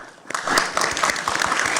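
After a quiet start, conference applause for the speakers at a Belt and Road Initiative panel swells into full clapping, close and fairly loud, with sharp individual claps standing out over the steady wash.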